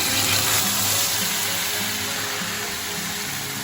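Fried meat with cardamom and cumin simmers in a pan, giving a steady soft bubbling sizzle that stays even and fairly close, with no one talking.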